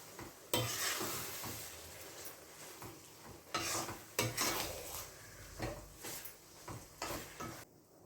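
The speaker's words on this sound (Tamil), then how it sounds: "நம்ம இந்த அரைச்சி வச்சோம் அந்த பொடியை வந்து இதில் போட்டுக்கலாம் போட்டு நல்லா கலந்து விட்டுடலாம்" Ground spice powder stirred into a cooked onion mixture in a pan, repeated utensil scrapes and clinks against the pan over a faint sizzle, fairly quiet and close.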